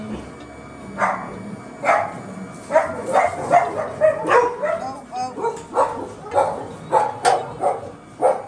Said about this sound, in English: Those dogs are going crazy.